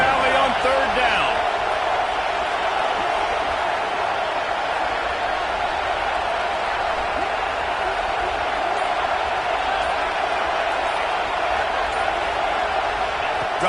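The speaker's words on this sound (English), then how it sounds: "Here comes the noise from this big crowd in Happy Valley on third down." A big football stadium crowd in Happy Valley at a Penn State vs Georgia game roars on third down, a dense, steady wall of noise that stays loud for the whole stretch.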